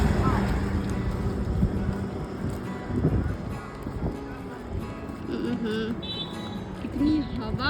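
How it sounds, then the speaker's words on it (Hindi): Strong wind blows outdoors, a loud, steady rumbling gust buffeting the microphone throughout, with faint voices and a few brief background sounds underneath. "कितनी हवा चल रही है।"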